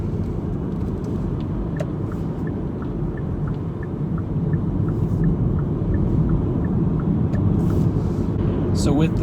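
A Hyundai Kona Electric pulls away in one-pedal mode, its steady low road rumble and tyre noise building gently over the whole stretch, with a faint high electric whine running underneath.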